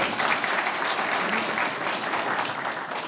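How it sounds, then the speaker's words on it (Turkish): An audience at an association congress in Gebze applauds steadily, a dense wash of many hands clapping in a hall that holds level throughout with faint voices mixed in. "Onun için de güçlü bir alkış istiyorum kendisinden."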